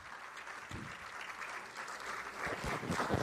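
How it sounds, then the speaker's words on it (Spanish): Audience applause welcoming the speaker at an evening keynote talk on chemical hazards in food safety management, steady clapping from a mid-sized crowd throughout, swelling slightly toward the end. "Recibimos con unos fuertes aplausos a nuestro ponente en esta noche"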